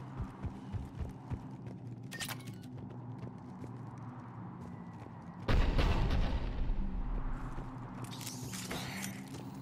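Cannon fire in the Mass Effect video game: scattered clanking impacts give way to a heavy booming blast that rumbles on, followed by a burst of crackling noise.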